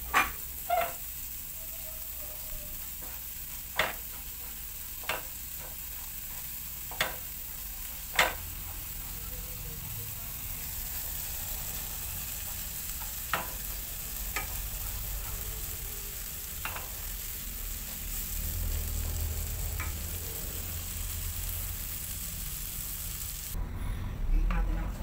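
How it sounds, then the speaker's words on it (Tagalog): Peanuts dry-roasting in a pan make a soft continuous rustling hiss, broken by several sharp clinks of a spatula stirring against the metal, with a low rumble building toward the end. "Sasangag ko na rin yung peanut dito."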